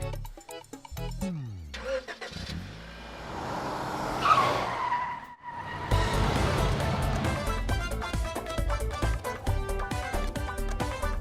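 A car is driven recklessly, with loud tire skids and squeals and the engine revving hard up close. Dense music follows and runs beneath the engine noise.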